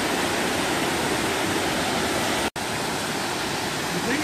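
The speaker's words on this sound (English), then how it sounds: "I'm not very far, I'm only 20 meters away from this waterfall" Waterfall on the Coomera Circuit at Binna Burra, Australia, heard from about twenty metres away as a steady, loud broadband roar of falling water that fills the whole clip, with one brief dropout midway.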